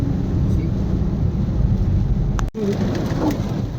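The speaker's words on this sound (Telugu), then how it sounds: "మొత్తం ట్రాఫిక్ ట్రాఫిక్ ఫుల్ వర్షం" Dense, steady heavy rain hiss close by in Hyderabad traffic, loud and continuous, with a brief dropout midway and low rumbling underneath.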